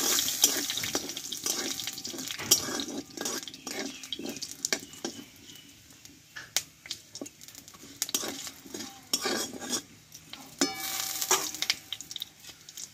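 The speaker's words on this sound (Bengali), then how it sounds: "আর দেবো এখানে 1/2 চামচ মতো পাঁচফোড়ন। ফোড়নটা একটু ভালোভাবে ভেজে নেব আমি।" Half a spoonful of panch phoron spices fries in hot oil for a drumstick curry, a soft sizzle broken by irregular clinks and stirring scrapes, with a watery running sound partway through and no talking.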